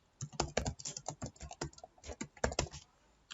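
Fingers type on a computer keyboard while text is entered on a PowerPoint slide, giving quiet, close, irregular clusters of key clicks.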